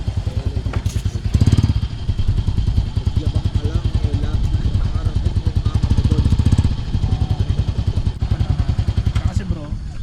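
A motorcycle engine idles close by with a rapid, even putter, rising slightly in loudness at moments, while someone talks over it.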